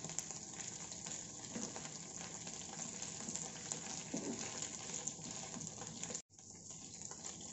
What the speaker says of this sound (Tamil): ஒரு 3 நிமிஷம் இந்த எண்ணெயிலே காலிஃப்ளவர் வதக்கி எடுக்கலாங்க